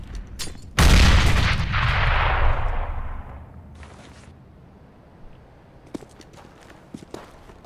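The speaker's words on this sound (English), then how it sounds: "Flashbang." A flashbang grenade in a video game goes off with a sudden loud bang followed by a long ringing, hissing wash that slowly fades, then scattered footsteps and small clicks afterward, no voices.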